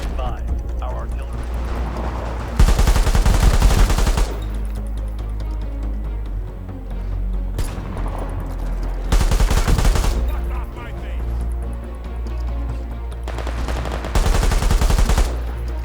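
Bursts of gunfire and artillery fire from the video game World War 3 arrive in three loud, dense volleys separated by quieter stretches of distant battle rumble.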